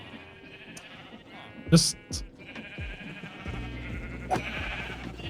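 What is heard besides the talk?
sheep bleating in the video game Minecraft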